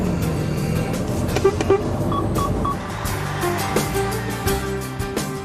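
A few short horn toots ring out from a lorry setting off to haul a nearly 19-metre-long train load, over steady road and engine rumble.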